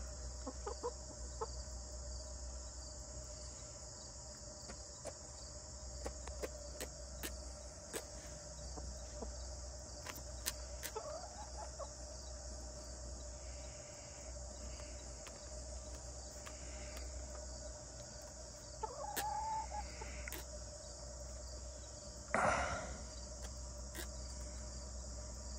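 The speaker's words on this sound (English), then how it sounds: "It's kind of nice to just hang out with you healthy chickens." Backyard chickens give a few soft, scattered clucks against a constant drone of chirping insects, with the birds faint and somewhat distant.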